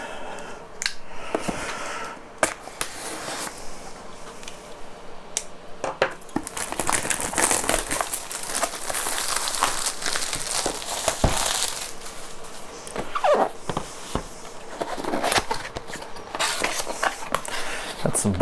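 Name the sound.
unwrapping plastic packaging wrap of RC transmitter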